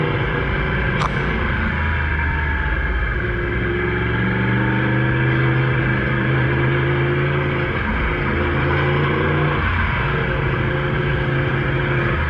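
A 2018 Yamaha R1 motorcycle with an Akrapovic Evolution Line full exhaust system rides along, a continuous loud engine drone with shifting pitch and steady wind rush, close throughout.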